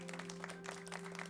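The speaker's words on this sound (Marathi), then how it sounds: "मग सगळ्यांनी टाळ्या वाजवल्या" Applause from children in a classroom after a storytelling contest, a steady patter of small hands under a constant electrical hum, brief and fairly quiet.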